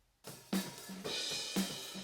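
Raw, unprocessed acoustic drum overhead mics pick up a few kit hits with a boxy, roomy tone, cymbals ringing over the thuds of individual strikes. The passage is short and moderately quiet.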